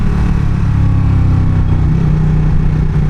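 Loud, constant engine drone of a motorcycle underway, a steady low rumble with wind noise throughout and no voices.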